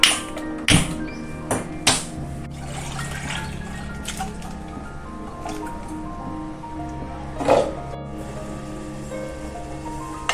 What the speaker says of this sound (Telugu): ఇవమ్మ నీళ్లు మరుగుతున్నాయి